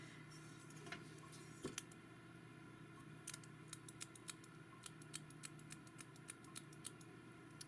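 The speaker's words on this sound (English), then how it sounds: "you guys are going to be hearing that clicking lead extension noise a lot" A mechanical pencil's lead extension clicks repeatedly at a drawing desk, sharp small ticks coming in irregular bursts, close and faint over a low background hum.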